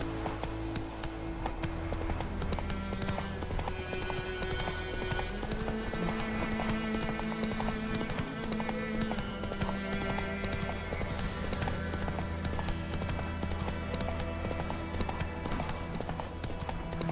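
Hooves clip-clop in a steady galloping rhythm as a horse runs in The Witcher 3: Wild Hunt, carried over a constant layer of game music and ambience, with a brief whinny, no talk.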